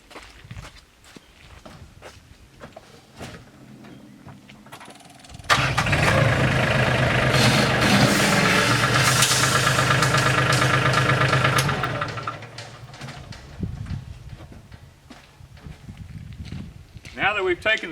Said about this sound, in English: we're going to lift the bucket up on the tractor